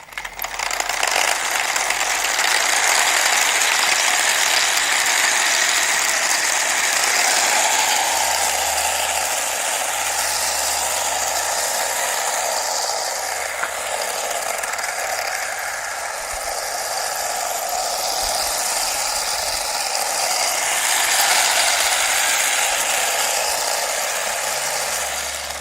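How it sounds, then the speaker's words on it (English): A small speed tank driven by brushless 2212 motors runs with a steady, even whir and a dense mechanical ratcheting rattle of gears and treads that holds at one loudness throughout, close by with no voices. "So these motors definitely don't seem to have the power that the other ones did."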